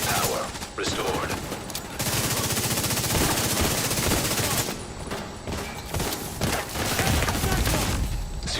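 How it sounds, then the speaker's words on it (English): A minigun roars in The Division 2, firing long, loud sustained bursts with only brief gaps, its rapid rattle continuing almost the whole way through amid the chaos of battle. "Minigun power restored."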